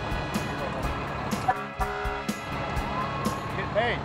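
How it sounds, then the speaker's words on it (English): A car horn toots in short bursts near an outdoor roadside stop, with people talking around it. "Can you honk us once?"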